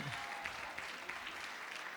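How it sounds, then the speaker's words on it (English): Faint, distant applause ripples through a school graduation luncheon hall, a soft steady wash of clapping from a crowd with a brief tone at the start. "Another round of applause to them."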